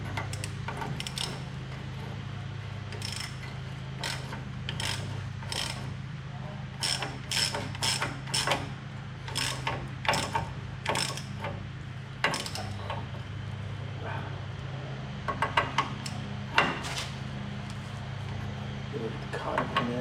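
A ratchet tightens a suspension nut on a C10 truck's steering linkage, with repeated clicking strokes in irregular bursts over a low background hum and occasional speech nearby.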